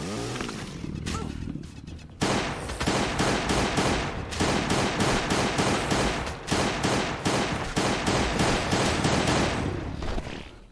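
Rapid video game gunfire, a dense, loud stream of closely spaced shots that continues steadily after a short quieter opening, with no talk.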